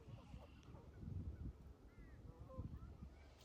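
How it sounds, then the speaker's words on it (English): Geese honking outdoors, a few faint scattered honks and calls over low rumbling background noise, distant and quiet. "As I look at the birds around me today"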